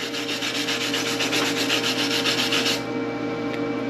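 A stainless wire brush scrubs truck scissor hinges in quick, close, rhythmic back-and-forth strokes, a gritty scraping that runs steadily and then stops shortly before the end.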